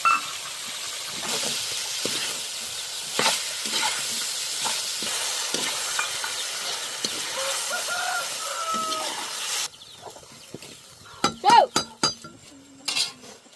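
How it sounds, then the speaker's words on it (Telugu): Cut vegetables and soaked dried peas stir-fry in a kadai with a loud, continuous sizzling hiss. The hiss then drops away, followed by sharp clinks of a metal spoon against the pan. "కోసి పెట్టుకున్న వెజిటేబుల్స్ మీకు ఎంత కావాలో అంత వేసుకోండి"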